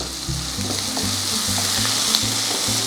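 Chopped onions and garlic frying in a pan for kanda curry, a loud, constant sizzle close up with a faint low hum underneath and no talking.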